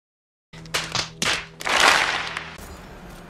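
A Nova bomb ability going off in the Destiny 2 video game, a sharp whip-like crack followed by a couple of hard thumps and then a swelling, rushing blast that fades out.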